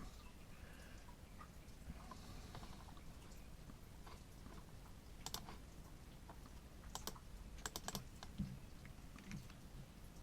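A password is typed on a computer keyboard, a faint scattering of close key taps in small bursts over a quiet room hum.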